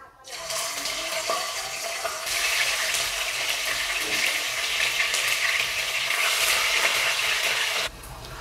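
Turmeric-coated tangra fish fry in hot oil in a wok, a steady, loud, broad hiss of sizzling that runs almost unbroken for several seconds before dropping slightly at the end.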